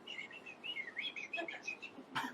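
A person softly whistles a run of quick, high bird-like chirps and trills, imitating a bird, ending with a short rustle.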